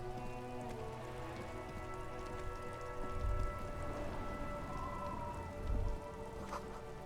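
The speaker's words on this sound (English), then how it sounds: "I can only hear rain." Steady rain falling in the Disco Elysium game, a continuous patter of drops on surfaces with a low ambient hum and a couple of soft thuds, no voices.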